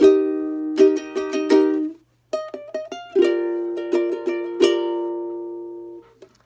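Bright ukulele chords are strummed in quick bursts, with a short pause partway, then more strums ringing out before fading.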